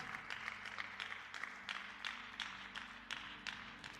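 A church congregation claps hands together as an offering of praise, a quiet, steady run of sharp claps with a loose rhythm, heard from some distance.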